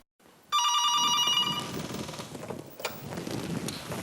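A telephone rings in a call centre, one loud, close electronic ringing burst that stops abruptly and gives way to a rumbling room background.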